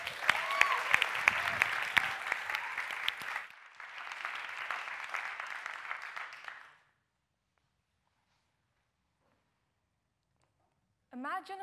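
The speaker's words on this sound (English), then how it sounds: "Huge applause, please, for our final FameLab International Tremi finalist" Applause for a Hong Kong champion finalist at a FameLab International science-communication semi-final, a hall audience clapping loudly for several seconds, then fading to silence before a voice starts at the very end.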